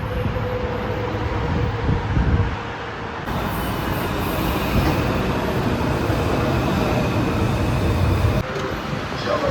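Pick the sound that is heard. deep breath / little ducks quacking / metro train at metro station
metro train at metro station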